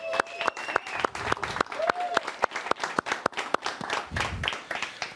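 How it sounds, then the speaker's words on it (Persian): A studio audience applauds a drummer performing with an injured arm, a steady wash of clapping with sharp individual claps standing out, lasting throughout at close range. "خواستم یه تشویقش بکنیم."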